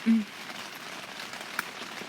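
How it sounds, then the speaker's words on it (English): Steady rain falls outside in California, a soft continuous hiss with faint drips, and a brief voice is heard near the start. "It's raining again here in California."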